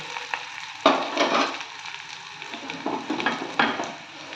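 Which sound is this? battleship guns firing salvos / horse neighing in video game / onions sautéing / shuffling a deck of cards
onions sautéing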